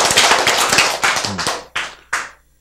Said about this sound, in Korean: 그래도 나는 박수 칠 거야!